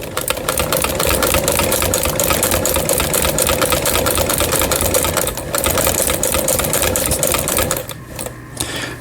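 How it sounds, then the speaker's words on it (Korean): Antique hand-built Singer sewing machine stitching after an upper-thread tension adjustment, a steady fast mechanical clatter of needle strokes running continuously nearby, easing and stopping near the end. "그래 놓고 다시 한번 박음질을 해 보겠습니다"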